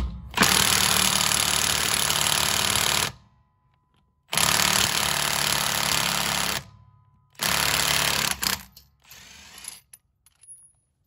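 A Milwaukee M12 stubby impact wrench on its most powerful setting, speed 3, rated around 100 foot-pounds and running on a small battery, gives three long, loud buzzing hammering bursts separated by pauses, then a few short weaker bursts.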